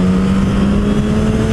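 A naked motorcycle's engine roars through its original stock exhaust during a downshift, a loud, steady, close-up drone with a strong low tone and road noise.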